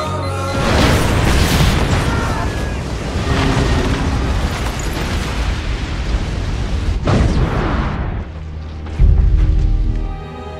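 A loud bomb blast from a movie terror attack set in 1964 New Orleans, with a deep booming roar sustained for several seconds followed by further heavy impacts and rumbling debris near the end.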